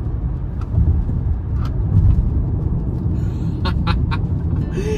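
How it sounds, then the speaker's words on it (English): A 2023 BMW i4 eDrive35 electric car accelerates hard on the road, giving a steady low rumble of tyre and road noise with a faint rising electric whine near the end and small clicks and knocks inside the cabin. "But with an electric option, what you get is this sort of acceleration."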